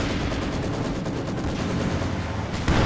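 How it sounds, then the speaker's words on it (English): A field gun fires during a Company of Heroes 2 match amid a dense, continuous roar of battle gunfire and explosions, with a heavier blast near the end. "field gun firing in from nearby positions as well"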